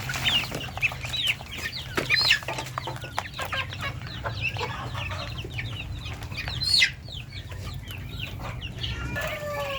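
Several chickens cluck and chirp continuously nearby, with a rooster's brief call in the middle and a low hum underneath.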